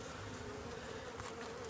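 Honey bees from a hive extracted in Clarksville, Texas, give off a dense, steady buzzing drone that stays close and continuous throughout, with no voices over it.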